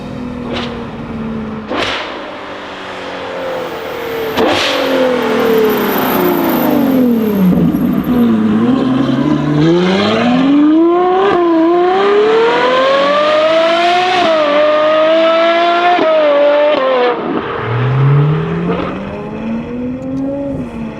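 Novitec-tuned Ferrari 812 N-Largo S with a V12 engine, revving loudly and continuously near the microphone, pitch sweeping down and then climbing through sustained rising and falling revs, with a sharp crack near the start.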